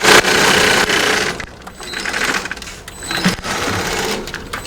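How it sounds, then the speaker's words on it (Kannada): A stitching machine in a mattress factory sews fabric in loud, rapid mechanical bursts, stopping and restarting several times with brief quieter gaps between runs. "ಇವಾಗ ಸ್ಟಿಚಿಂಗ್ ತಗೊಂತಾ ಇದೀವಿ ನೆಕ್ಸ್ಟ್ ಲೆವೆಲ್."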